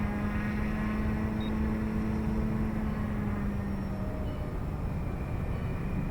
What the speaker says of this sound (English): Turbines to speed. Optimum RPM. And let's take off.